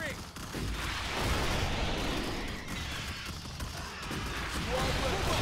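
Dense, continuous gunfire from a squad of troopers in the sci-fi strategy game Starship Troopers: Terran Command, a loud rumbling barrage of overlapping shots and blasts with voices shouting faintly beneath.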